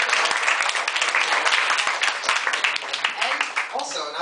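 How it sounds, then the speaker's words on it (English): A graduation audience gives a loud, close round of applause for the graduate's mother, dense clapping throughout with cheering and voices rising near the end. "can we have another round of applause for my mom"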